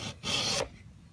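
A file rasps across a chainsaw tooth during sharpening, one short gritty stroke of about half a second, close and clear, followed by quiet.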